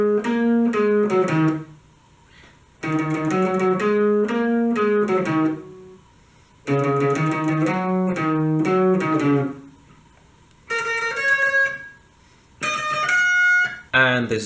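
A plucked guitar riff from the verse of a song, in short repeated phrases separated by brief pauses, climbing to higher notes near the end, clear and close.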